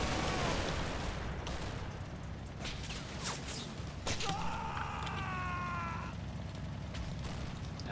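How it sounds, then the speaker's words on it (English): Heavy machine gun fire in a war video game, a dense crackling fusillade of shots and distant bursts under steady loud battle noise, with a wavering tonal whine midway. "Now that looks like probably HMG fire"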